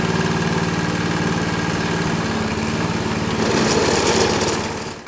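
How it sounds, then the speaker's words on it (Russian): A lawn mower running steadily during autumn lawn care, its engine droning close and constant with a slight rise in intensity near the end before tapering off. "Для этого нам потребуются веерные грабли, вилы и газонокосилка."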